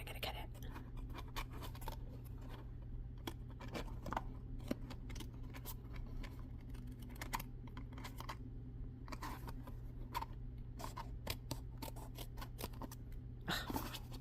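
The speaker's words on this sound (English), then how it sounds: "So we're gonna cut" Paper is snipped with scissors while a box is being made, giving a quiet series of short, crisp cuts with uneven pauses over a low steady background hum.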